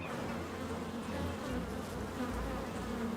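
Bees buzz steadily around a hive in a garden, a close, even drone of many insects with no talk over it.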